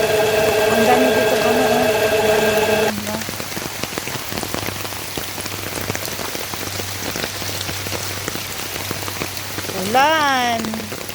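Heavy rain pattering steadily on a surface in rural Pilar, Bohol, Philippines, with a low engine hum underneath and a brief rising tonal whine near the end.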